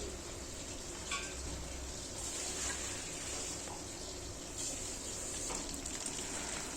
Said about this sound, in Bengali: এই যে কড়াইয়ে দিয়ে দিয়েছি, এত মাছগুলো ফোটে, প্রচণ্ড ফোটে মাছগুলো।